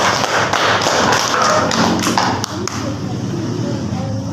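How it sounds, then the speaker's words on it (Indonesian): A class of students in an Indonesian school lesson breaks into dense, steady applause, a continuous patter of close hand claps with some voices mixed in. "Oke, kita beri aplaus."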